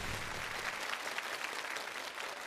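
A studio audience on a televised challenge show applauds to congratulate a contestant, a brief burst of even, dense clapping at moderate distance with no talking.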